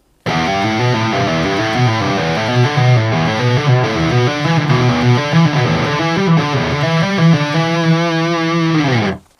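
A loud distorted electric guitar plays a continuous, flowing legato run up and down a pentatonic pattern on one string, notes leaping between intervals, ending on a held note.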